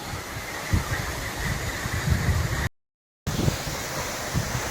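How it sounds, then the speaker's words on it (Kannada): Broad, steady roar of rushing water at Zenith Falls near Lonavala, with wind buffeting the microphone, constant and fairly loud, broken by a brief silent gap. "ಫಾಲ್ಸ್ ಇಂಥ ಪರಿ ಐತೆ ಹೇಳ್ತೀನಿ ನೋಡ್ರಿ"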